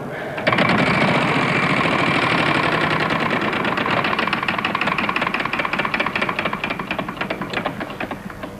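A Wheel of Fortune game show wheel spins on a 1996 studio set, a rapid ratcheting clatter of pegs striking the pointer that starts abruptly, runs fast and loud, then gradually slows and thins out.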